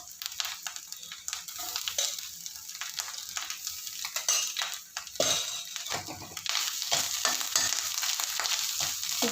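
Grated coconut sautéing in a hot pan for coconut rice, a close crackling fry with frequent scraping and clinking stirs that briefly break off midway, then resume.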